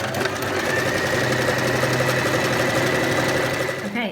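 A sewing machine runs steadily, stitching down the side of a fabric storage tote in one continuous, close mechanical whir that stops near the end.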